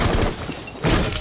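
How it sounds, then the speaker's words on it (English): A window breaks from a melee strike in the tactical shooter Rainbow Six Siege, Terrorist Hunt in a house: a loud, close, crunching glass shatter that cuts briefly and then bursts again. "you wanna hit V to melee the windows to break the window"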